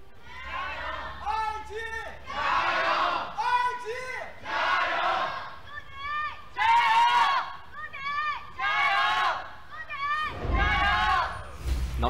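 Live esports crowd at a 2018 LPL Summer Split match between Invictus Gaming and Suning Gaming chants a loud, rhythmic cheer, bursts of many voices rising and falling in repeated waves, with a big roar near the end.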